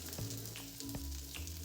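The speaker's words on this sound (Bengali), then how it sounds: "কলা আর আলুটা হালকা ভাজা হয়ে এসেছে।" Raw banana and potato pieces lightly frying in a pan give off a steady, close sizzle, with a few soft knocks from the utensil.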